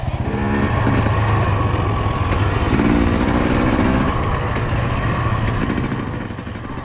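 KTM 500 dirt bikes riding near the Sea of Galilee, a loud, continuous engine drone with a throaty rumble and shifting pitch as throttle changes, close by throughout with no talk.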